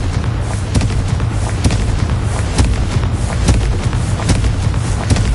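Blasting Confringo spell in the video game Hogwarts Legacy on PS5, a dense run of booming, crackling explosions and thuds rolling loudly one after another with no pause.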